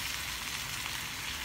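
Whole chicken frying in a wok, a dense steady sizzle of hot oil, close and constant with no talk.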